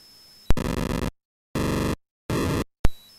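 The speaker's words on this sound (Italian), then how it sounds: "I numeri più bassi servono per generare rumori o suoni simili a scricchiolii." An Atari home computer puts out harsh, buzzing distorted noise in three short bursts of about half a second each, separated by dead silence and framed by sharp clicks, loud and alone.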